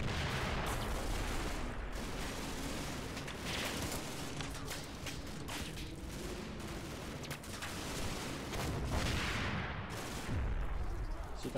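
Machine guns lay down suppressive fire in the wargame Combat Mission, with dense overlapping bursts and booming impacts rolling on continuously at a moderate distance.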